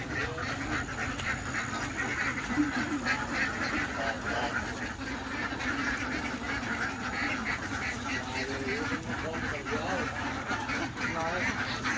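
Ducks quack persistently in a duck egg farm pen shared with geese, turkeys and guinea fowl, a continuous chorus of overlapping quacks and occasional honks, with someone talking over the flock.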